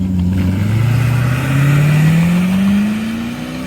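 A Holden-built Chevrolet Caprice PPV V8 engine revs loudly on a racetrack and climbs steadily in pitch as it accelerates, close and continuous.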